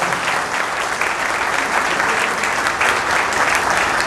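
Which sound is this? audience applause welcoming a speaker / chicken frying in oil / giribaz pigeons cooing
audience applause welcoming a speaker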